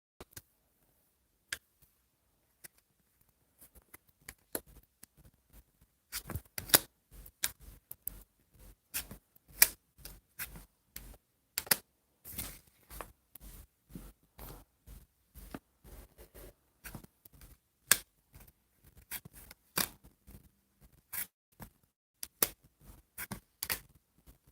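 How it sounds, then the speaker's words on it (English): Tarot cards are handled and put away, producing a long string of sharp, dry taps and clicks, sparse at first and then dense and irregular, close up and with no voices. "I'm gonna put these cards away."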